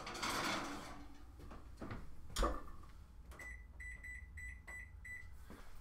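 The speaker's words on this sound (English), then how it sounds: "We're just going to put this in the oven." A cast iron pan goes into a kitchen oven: rustling and a sharp metallic clunk of the pan and door, followed by a quick run of high electronic oven beeps.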